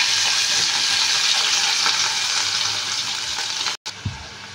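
Finely chopped vegetables for puri curry drop into hot oil with tempering seeds and curry leaves, giving a loud, steady, close sizzle that cuts out briefly near the end before resuming.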